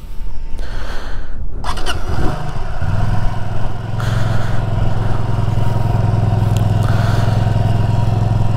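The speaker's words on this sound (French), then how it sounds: "Mise en route, moteur." A motorcycle engine cranks and catches, then settles into a loud, steady, rumbling idle that continues to the end.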